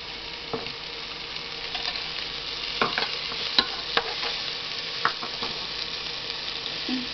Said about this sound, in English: So let's wait till the onion has a little bit of golden type color